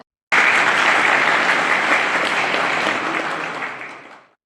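Municipal workers at a collective labour agreement signing ceremony in Bolu burst into loud, sustained applause that starts abruptly, holds steady, then tapers off and fades out.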